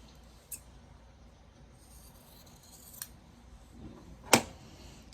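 A single sharp scissors snip cutting quilt fabric stands out near the end, with a couple of faint clicks and rustles before it in an otherwise quiet room.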